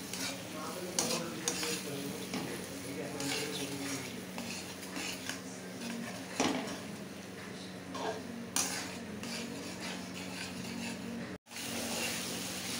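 Soaked, dissolved spice paste fries in a pan for mutton curry, a soft continuous sizzle with intermittent scraping stirs and light utensil knocks, fairly faint overall.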